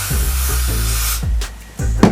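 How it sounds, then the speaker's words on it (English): Steady hiss of a hairspray aerosol sprayed onto hair in a few bursts, close and loud, with brief pauses between sprays. "I'm just gonna spray the little end piece"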